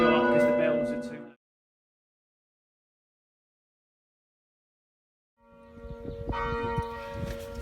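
Church bells ring in the bell tower of St Mary's Parish Church in Elham, England, loud, close and resonant, broken by a gap of silence of several seconds, with people talking over the ringing.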